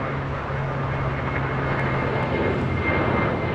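A jet airliner rolls for takeoff on runway 25 right at LAX, its engines producing a loud, steady broadband roar with a low droning hum, continuous and close throughout.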